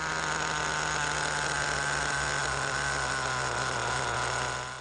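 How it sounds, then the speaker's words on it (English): A small HPI nitro RC car engine runs close by while its idle screw is adjusted, giving a steady buzzing drone whose revs hold nearly constant and dip slightly at the end. "You can hear the revs changing while turning the screw."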